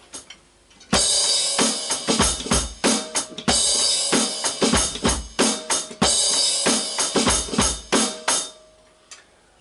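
A rock drum beat from Audioslave's 'Like a Stone' played on a kit, with steady kick, snare and cymbal hits in a driving repeating pattern, loud and close, no talking.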